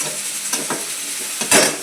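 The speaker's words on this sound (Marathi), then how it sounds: "कांद्याला चांगलं लाल करून भाजून घ्यायचं." Chopped onion frying in a pan until reddish, a steady close sizzle broken by several scraping stirs, the loudest near the end.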